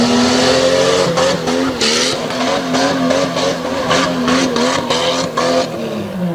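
A green Jeep tough truck at a dirt-track tough truck race in Abbottstown, Pennsylvania, roars loudly through a corner, its engine revving hard and droning over sharp bursts of tire noise, close and continuous with no talk.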